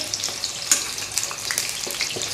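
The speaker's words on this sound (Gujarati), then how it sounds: "ડુંગળીને આપણે એકદમ ફૂલ ગેસ પર સાંતળવાની છે" Onions sauté over a full gas flame, a lively close sizzle with sharp crackling pops and spatter throughout the short stretch.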